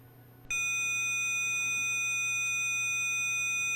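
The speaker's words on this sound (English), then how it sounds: "Let's go to domain 3, which will have lower frequency content. This will probably be more like a fax machine." Synthesized electronic tone, lower in pitch and reminiscent of a fax machine, switches on abruptly and holds as a steady, multi-layered whine until the end.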